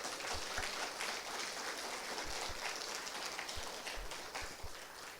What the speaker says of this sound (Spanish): Denle aplauso al Señor para que salga todo su principio ahí.